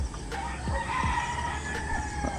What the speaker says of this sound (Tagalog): Mga huli ng manok ang naririnig natin.